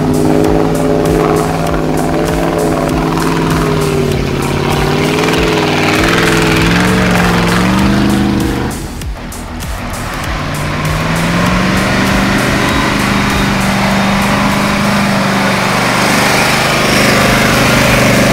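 Off-road buggy engine running loud and close beside its right-side exhaust muffler, a continuous raspy drone that dips briefly midway, then revs back up and holds steady.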